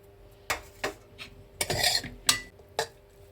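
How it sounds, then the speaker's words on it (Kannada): A spoon clinks and scrapes against a metal pot, mixing grated coconut and coriander leaves into mango rice, in a few sharp strokes with a longer scraping stir in the middle, close and fairly quiet. "ಕಾಯಿ ತುರಿನೂ ಕೊತ್ತಂಬರಿ ಸೊಪ್ಪು ಎರಡು ಮಿಕ್ಸ್ ಮಾಡಿ"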